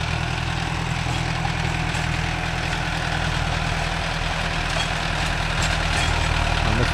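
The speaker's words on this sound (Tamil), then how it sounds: "என்ன மாதிரி ரொட்டாட்டில் மாட்டிக்கிச்சு தங்கு தங்கு தங்கு தங்குன்னு அடிக்குது" A Mahindra Arjun Novo 605 DI tractor drives a rotavator among coconut trees, its heavy diesel engine droning loud and steady with a deep low rumble and no pauses.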